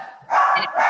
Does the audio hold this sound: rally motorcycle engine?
no